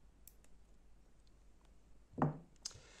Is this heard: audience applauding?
no